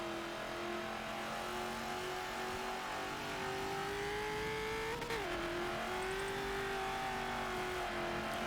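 Hot Wheels Bone Shaker race car in Forza Motorsport 7, its engine droning steadily at high revs with a brief dip and rise midway, continuous and close with no talking.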